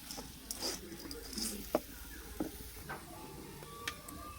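Soft scraping and patting comes from a semolina mixture being stirred with salt and sugar, heard as faint, irregular taps and scrapes at close range.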